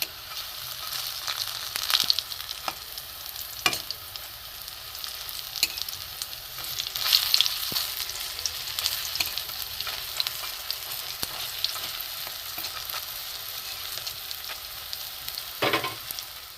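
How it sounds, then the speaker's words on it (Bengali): Bitter gourd leaf fritters sizzle steadily in hot oil for a long stretch, with occasional stirring clicks and scrapes over a constant bubbling hiss and no talk. "এ কটা একটু লাল লাল করে ভেজে নেবো"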